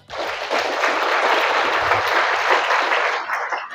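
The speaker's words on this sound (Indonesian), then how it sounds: "tepuk tangan" At an Islamic New Year (Muharram) gathering, an audience breaks into a short burst of applause. It rises quickly, holds as dense, fairly loud clapping for about three seconds, then dies away.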